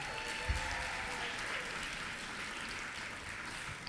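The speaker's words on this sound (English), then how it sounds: "a round of applause for everyone in the room" Steady applause from an audience at a young entertainers' awards ceremony, a dense, even patter of many hands clapping continuously at moderate distance, with no voices over it.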